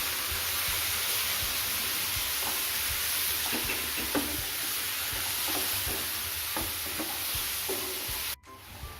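Chopped tomatoes stirred into a sizzling pizza paratha filling in a pan, a steady fry hiss with soft scraping stir strokes repeating throughout and a brief drop near the end, no voices.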